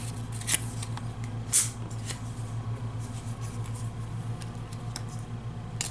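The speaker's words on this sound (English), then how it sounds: "Let me do some more shuffling" Playing cards are shuffled by hand for a Talisman board game, giving soft, quiet riffling and flicking with a couple of sharper snaps over a faint steady background hum.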